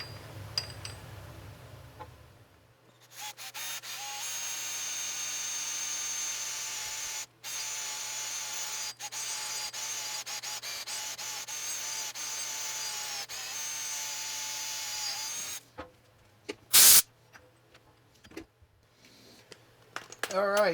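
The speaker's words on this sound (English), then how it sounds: "went ahead and drilled 5/32 hole. I drilled it straight through" A drill bores a 5/32 hole straight through for a roll pin while a power feed motor is fitted to a Pearson milling machine. A steady, loud whine runs for about thirteen seconds, then stops, followed by scattered clicks and handling noises.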